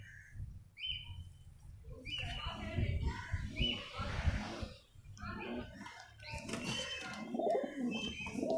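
A homing pigeon with one wing tied, back home after three months, gives repeated soft throaty coos in close range, with bursts of fainter chatter in the background.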